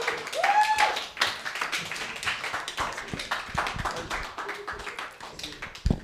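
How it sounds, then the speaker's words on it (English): A comedy club audience at an open mic stand-up show applauds steadily for several seconds, dense clapping filling the room, with a brief whistle near the start. "and a round of applause."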